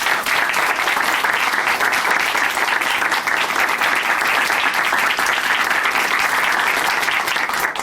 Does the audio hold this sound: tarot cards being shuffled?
no